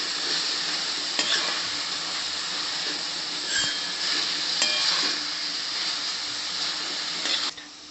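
Mint vegetable pulao ingredients with bay leaf are stirred in a pan over a steady, hissing sizzle, with occasional spoon scrapes and clinks against the metal and no voices.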